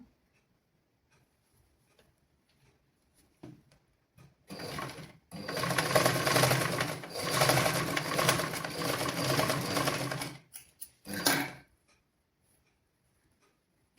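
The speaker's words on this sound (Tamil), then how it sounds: "இங்கால் பகுதியும் நாங்கள் நோட் போட்டு தைக்க வேணும்" A sewing machine stitches a children's garment, running in one long loud whirring burst of about six seconds, then a brief second burst, with near silence before and after.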